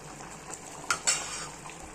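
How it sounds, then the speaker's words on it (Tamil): A spoon scraping and clinking in a pot of chicken curry as masala powder is stirred in, two sharper clanks over a quiet, low background. "இப்போ தண்ணி வற்றிட்டு நம்ம எடுத்து வச்சுக்கிற மசாலா தூளை போடுவோம். போட்டு நல்லா கிளறிப்போம்."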